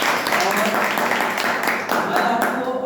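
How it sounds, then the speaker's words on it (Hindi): An audience gives a burst of applause after a theatre play, a dense, steady wash of many hands clapping over about three seconds, with voices talking over it. "एक बार जोरदार ताली बजाइए"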